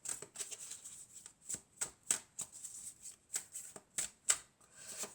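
Oracle cards shuffled by hand, a string of soft riffling flicks in uneven rhythm, close and fairly quiet with no talking.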